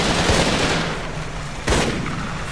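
Gunfire from the Xbox 360 shooter Raven Squad, a loud continuous rattle of shots against battle noise, with a sharper burst standing out partway through.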